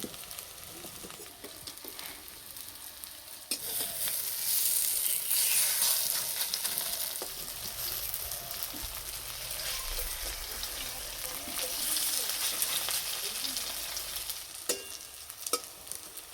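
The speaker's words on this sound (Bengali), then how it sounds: "একটু সময় ধরে আস্তে আস্তে ভেজে নেব" Drumstick flower and fish fritters frying in hot oil, a continuous sizzle that swells louder after a few seconds, with occasional stirring clicks and taps.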